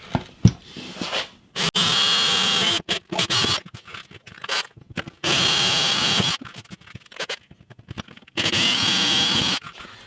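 A power drill bores a row of holes into a workbench, running in several loud bursts of a second or so each, with short pauses and scraping between them.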